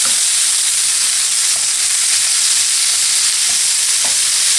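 Onion, garlic and roasted red pepper pieces fry in a hot pan, a loud, continuous close-up sizzle with bright hissing and faint stirring scrapes.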